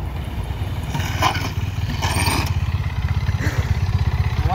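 A motorcycle approaching on a test run, its engine a steady rapid pulsing drone that grows slightly louder and closer, with some clatter and scraping mixed in.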